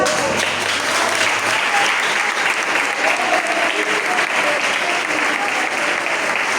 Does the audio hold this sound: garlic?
no